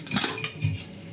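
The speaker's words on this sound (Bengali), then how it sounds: "এই যে কুকারটা এখন আমি খুলে দেখি" Metal clatter of a pressure cooker lid being opened in a village kitchen, a few close clinks and scrapes of cookware, no voices.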